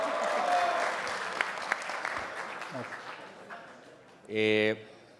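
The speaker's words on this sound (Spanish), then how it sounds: "Ahora sí el aplauso" Scattered audience clapping in a university lecture hall after a keynote class, fairly soft and thinning out, with a brief loud tonal blip near the end.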